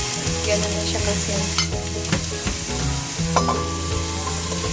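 Sliced eggplant and onion frying in a pan, with a steady close sizzle, occasional stirring scrapes and clinks, and a brief spoken remark over it.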